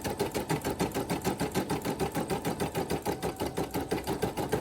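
An SC1900 embroidery machine stitches an applique, its needle hammering in a fast, steady, even rhythm, close and fairly quiet, running slightly slow throughout with no voices.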